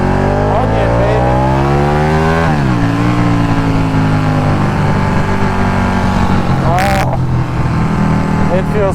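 A Ducati Panigale 1199 sportbike accelerates hard on the road, its loud, close engine rising through the revs, dipping briefly at a gear change and then climbing again, heard from the rider's position over wind.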